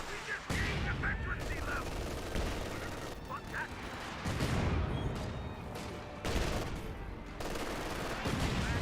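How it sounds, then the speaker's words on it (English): A .50 cal machine gun fires armor-piercing rounds in Company of Heroes 2, loud rattling bursts of automatic fire in several stretches, broken by short pauses, with battlefield noise and distant unit chatter. "Does use armor piercing rounds on the 50 cal."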